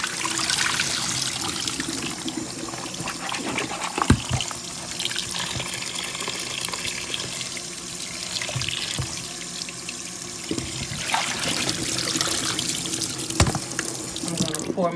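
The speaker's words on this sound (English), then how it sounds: "Wash all these out in this bowl just like this." Neck bones are washed in a bowl of water under a running tap, with continuous splashing, trickling and sloshing plus a few sharp knocks and clinks against the bowl, close and fairly quiet.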